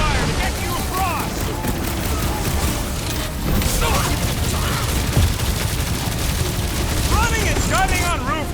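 Gunfire lays down cover in Guardians of the Galaxy as a steady stream of shots over loud combat noise, with scattered voices and chirping effects running through the whole stretch.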